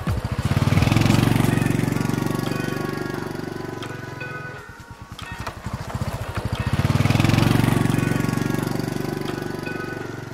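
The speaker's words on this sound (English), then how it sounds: "Motor scooter." A motor scooter engine runs with a close, pulsing buzz that dips in loudness midway and then swells again, heard alone.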